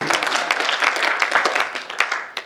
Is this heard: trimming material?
no